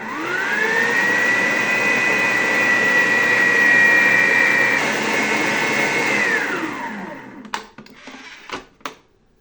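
An electric stand mixer fitted with a splash guard beats red velvet cake batter, a steady loud motor whine that holds for several seconds, then winds down and stops, followed by a few brief clatters.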